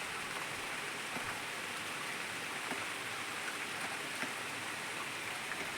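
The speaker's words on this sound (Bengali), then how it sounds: "পাকা ধান খেতে উপর বৃষ্টি পড়ছে" Rain falls steadily on a ripe paddy field, a soft, even hiss with faint scattered drop ticks, continuous and moderately quiet with no talking.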